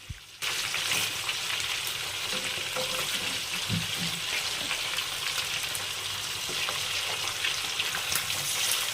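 Fish pieces fry in hot oil, giving a steady, dense sizzle that stays close and continuous throughout, with faint stirring or turning noises under it and no talk.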